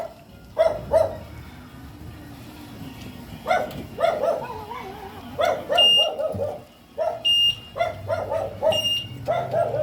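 A dog barks repeatedly in short bursts, close by, with a high electronic beeping and some background voices between barks.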